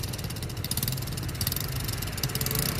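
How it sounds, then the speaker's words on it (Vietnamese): A new Honda Jincheng 110cc two-clutch motorcycle engine runs steadily with its exhaust blocked, giving a continuous muffled, even idle throughout without speech. "Có đây em bịt bô lại này. Đấy, máy nổ thì thầm luôn nhá."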